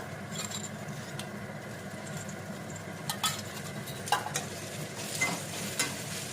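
Steady oily sizzle of okra (ladies' finger) frying in oil in a pan, with a utensil scraping and clinking now and then as the food is stirred.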